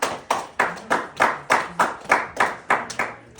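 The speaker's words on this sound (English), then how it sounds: "give him a big round of applause" A small audience claps in a slow, steady rhythm of about a dozen distinct hand claps after a timed speech, close and alone with no talking.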